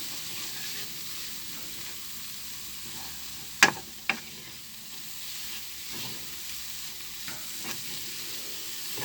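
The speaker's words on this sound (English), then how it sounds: "Give it a good mix around. Got to cook up these spices." Spices for a prawn curry fry in a pan while being stirred: a soft, steady sizzle close by, broken by a couple of sharp utensil clinks against the pan.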